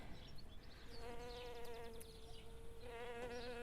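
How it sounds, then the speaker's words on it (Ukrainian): Bees work a Chippendale rose bush in a garden, their buzzing droning in and out close by, rising and fading as they move, quiet overall with no talk. "Ой, бджілки як працюють."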